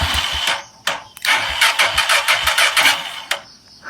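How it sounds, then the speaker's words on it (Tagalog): A Honda TMX motorcycle with a low battery cranks over and over without starting, triggered by a homemade remote. A steady run of rapid, loud mechanical churning bursts is heard up close, with no speech. "ayaw umandar ang ating motor"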